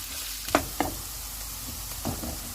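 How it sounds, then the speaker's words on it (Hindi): Onions fry in hot oil for masala dum gosht, making a steady sizzle with a few sharp clatters and stirring knocks near the start and middle. "ऑयल गर्म हो गया, इसमें प्याज डाल देते हैं। प्याज को हम गोल्डन फ्राई करेंगे।"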